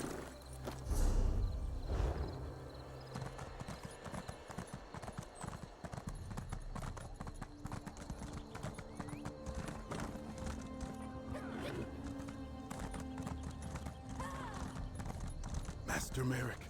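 Horse hooves clip-clop in a steady rhythm in a video game, with a horse whinnying near the start and a voice speaking over the scene.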